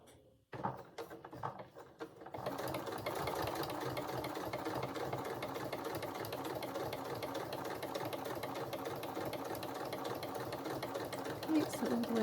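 Sewing machine stitching a dress, running steadily and continuously at close range for about ten seconds after a few brief starts, with faint talk at the beginning.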